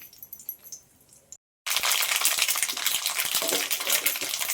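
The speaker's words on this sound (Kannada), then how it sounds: "ಸಾಸಿವೆ ಚೆನ್ನಾಗಿ ಕುಟ್ಬಿಡ್ತಾ ಇದೆ" Mustard seeds crackle and splutter in hot oil in a pan, a dense, loud continuous sizzle with rapid popping that starts abruptly after a brief silence, preceded by fainter clinking.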